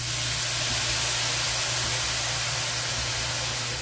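Water poured into a hot pan of coleslaw mix sends up a loud, steady steaming hiss that holds without a break, close and even throughout.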